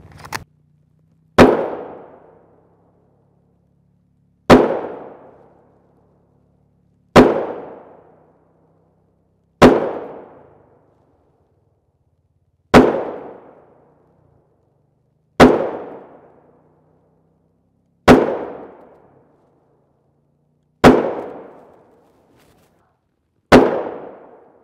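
A Magnum Research Desert Eagle .44 Magnum pistol with a ported barrel fires ten loud, close shots at a slow, even pace, each sharp crack fading into a short decaying ring, with no speech between them.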